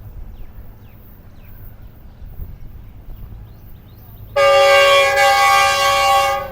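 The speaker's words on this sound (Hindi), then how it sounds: "हमारी अगली ट्रेन डाउन ट्रैक पर सियालकोट से चलने वाली 10 डाउन अल्लामा इकबाल एक्सप्रेस" The 10 Down Allama Iqbal Express from Sialkot approaches with a low, quiet rumble, then its horn blasts loud and sustained for the last couple of seconds.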